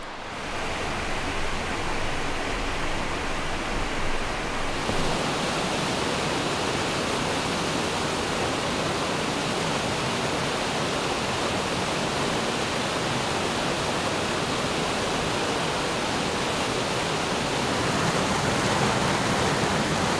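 Steady, full rushing of the clear mountain river Byala Reka, flowing past small waterfalls and pools under footbridges, continuous and close with no voices.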